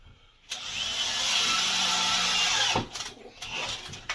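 A power drill drives screws into cement board on a shower wall, one steady whirring run of about two seconds that cuts off abruptly, followed by brief clatter and handling noise.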